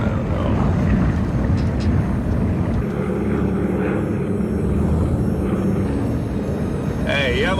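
A propeller airplane engine drones loud and steady as the plane loses altitude, with voices talking over the roar.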